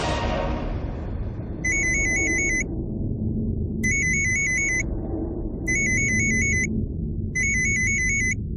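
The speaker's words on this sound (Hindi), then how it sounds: "किसका फोन से?" A phone ringtone chirps in four repeated electronic bursts over a low rumbling background, with no voices.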